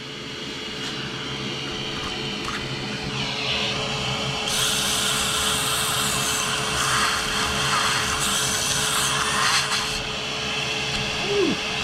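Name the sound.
power sander with new sanding pad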